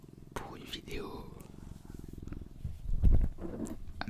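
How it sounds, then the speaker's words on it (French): A pet cat named Mistigri purrs softly and steadily up close, a low continuous rumble running under quiet talk for several seconds. "avec un petit peu de ronron, comme vous pouvez l'entendre"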